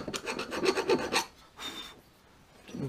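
A hand tang tool rasps over a burr on a broken tap in a machining job, a rapid series of about eight short scraping strokes, then a pause, one longer stroke and a faint scrape at the end.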